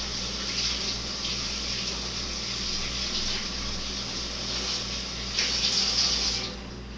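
Tap water runs steadily for handwashing at a kitchen sink before garlic prep, a continuous close hiss that swells briefly near the end, with no talking.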